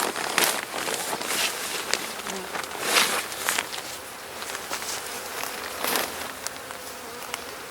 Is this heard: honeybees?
yes